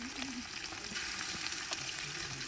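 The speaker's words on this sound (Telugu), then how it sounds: "ఉల్లిగడ్డ, పచ్చిమిర్చి అన్నీ మంచిగా వేగినాయి" Onions and green chillies fry in oil in a pan for chicken curry, giving a dense, steady hiss of sizzling close by with no pauses.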